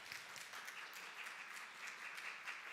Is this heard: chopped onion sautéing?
no